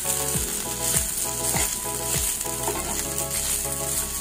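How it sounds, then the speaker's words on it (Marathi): Lemon rice with salt and spices is stir-fried in a pan, a steady close sizzle punctuated by about seven regular spatula scrapes, with no voices. "छान असं मसाला त्याला सगळीकडे लागेल असा परतून घेऊया"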